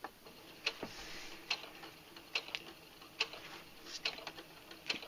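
A Brother SE 350 sewing machine runs at its slowest speed, giving a faint, steady series of light mechanical ticks and clicks at a slow, regular pace with no voices.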